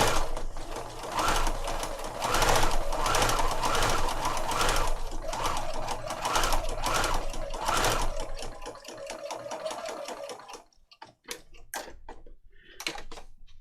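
A sewing machine stitching straight and zigzag lines on junk journal pages runs in a fast, loud mechanical patter for about ten seconds, then slows into a few scattered clicks and stops.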